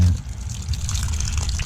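Tap water runs steadily at a commercial building, a continuous gushing flow into a basin, loud and close, with no talk over it.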